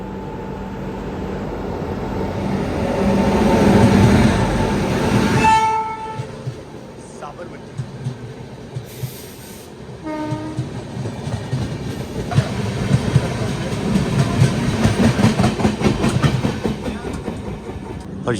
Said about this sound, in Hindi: अब इस तरफ से भी कोई गाड़ी आ रही है।